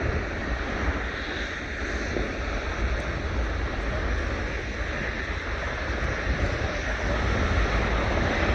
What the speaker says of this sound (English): with engines already running, the aircraft taxis from the QRA shed